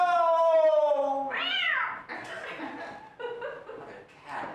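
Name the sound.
cat meowing, a mother cat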